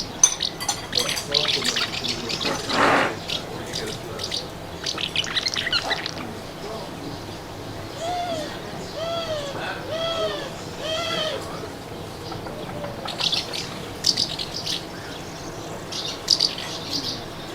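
House martins chatter and twitter nearby in quick repeated calls, scattered through the clip alongside some rustling and a bleating animal, on Lesvos.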